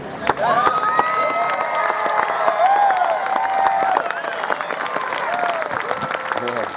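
A large crowd at an outdoor anti-mandate rally in Yeppoon claps steadily and continuously, with scattered cheers and shouting voices mixed into the applause.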